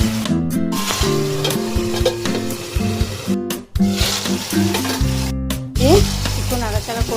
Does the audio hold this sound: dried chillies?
yes